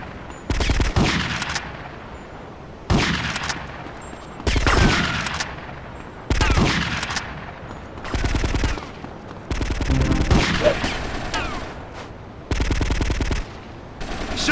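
Gunfire in Grand Theft Auto Vice City Stories: loud bursts of rapid automatic fire, roughly six separate volleys of about a second each, spaced by short gaps of lower background sound, with no talking.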